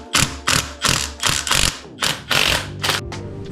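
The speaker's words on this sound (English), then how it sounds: "It looks like I'll have to use a puller to get it off." A ratcheting tool works a puller against the flywheel of a Polaris machine, making repeated loud, close clicking strokes in a steady rhythm, about eight bursts in quick succession.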